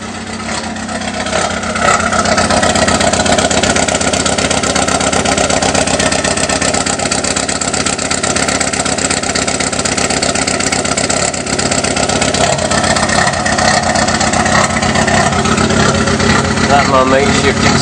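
A lawnmower engine on nitro fuel, fitted with a makeshift exhaust and suffering a bad misfire, runs loud and close with a continuous, rough drone, while someone talks over it.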